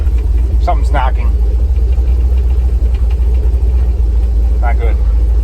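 A Chevrolet S10 engine idles with a steady, heavy low rumble and an uneven knocking, with brief voices speaking over it now and then.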